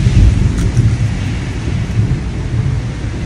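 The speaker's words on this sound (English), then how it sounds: "You hear that thunder?" Deep thunder rolls through a rainstorm, a loud, close low rumble sustained for a few seconds over steady rain hiss, with no voices.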